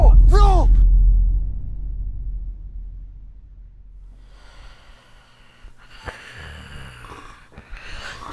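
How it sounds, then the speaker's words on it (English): A man snores loudly and close up, with raspy, snorting breaths at first that fade into quieter breathing, while faint background noise and shuffling continue. "Stop snoring, I'm sorry."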